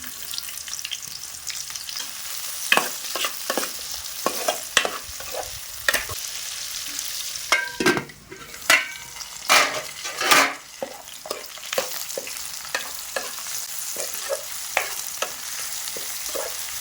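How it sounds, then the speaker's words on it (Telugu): Onions fry in oil in a pan for a traditional chicken curry, a constant close sizzle broken by repeated sharp scraping strokes of a spatula stirring, some louder clatters in the middle, no talking. "మనకైతే ఉల్లిగడ్డ ఫ్రై అయినాయండి"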